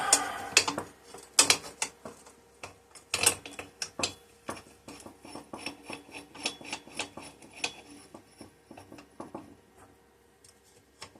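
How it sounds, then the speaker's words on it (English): An impact wrench and a puller work on a part of a Kohler K241 engine that has sat for years, giving sharp rasping mechanical bursts at an irregular rhythm, loud at first and then continuing with quieter repeated ratcheting hits. "I'm afraid by using the puller and an impact, we're just going to bend it."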